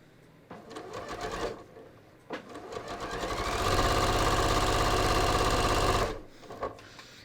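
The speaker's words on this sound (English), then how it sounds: "I'm going to stitch right across my center front." A sewing machine stitches across the center front of ready-to-wear pants, starting in two short runs, then running steadily for a few seconds before stopping, close and loud with no talking.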